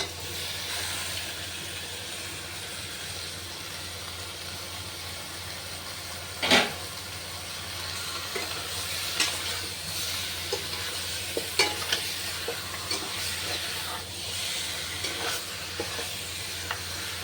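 Chicken sizzling and frying in hot oil with mustard seeds and curry leaves in a pan, a steady hiss broken by scraping stirs and clinks of the spoon, close and continuous with no talking.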